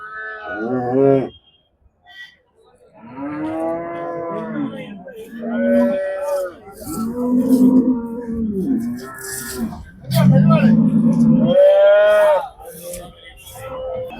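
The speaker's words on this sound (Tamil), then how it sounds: "இந்த மாடும் வாங்கியாச்சு வாங்கி ஏத்துறதுக்கு ரெடியா இருக்கு" Dairy cows at a busy cattle market mooing loudly and repeatedly while being loaded for a trader, several drawn-out lowing calls close by with quiet gaps between them and faint background bustle.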